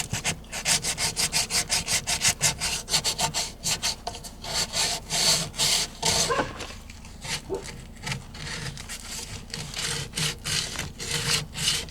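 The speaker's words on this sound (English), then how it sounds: "just gotta sand this side" Rapid back-and-forth strokes of sandpaper scuff the mating surface of an RV waste tank during a leak repair, a close, rhythmic rasping that pauses briefly midway and then resumes steadily.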